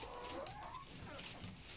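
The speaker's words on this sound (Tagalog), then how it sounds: "Tumpukan na yung mga manok dito." Faint clucking from a group of free-range chickens crowded together on a farm, low and continuous against a steady background hiss.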